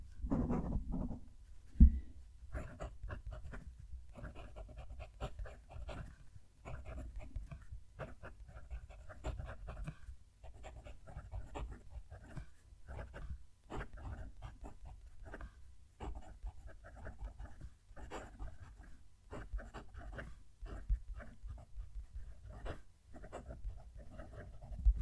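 A Jinhao 992 fountain pen nib scratches across textured paper in close, quiet strokes with an irregular writing rhythm, along with soft background panting; no talking.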